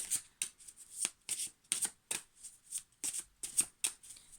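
Atlantis tarot cards are riffled and shuffled in a quick, rhythmic series of crisp papery bursts, close and alone with no talking.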